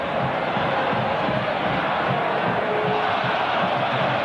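Dense, steady roar of a football stadium crowd at a 1998 Serie A match between AC Milan and Fiorentina, continuous and loud with restless murmuring and shouts throughout, no break in the noise.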